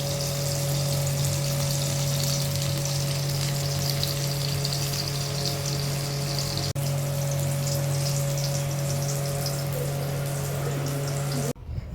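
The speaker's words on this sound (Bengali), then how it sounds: "এবার ভাজবো।" Sliced eggplant sizzles in hot oil in a home kitchen, a steady, even hiss running throughout beneath a constant low hum, with no talking.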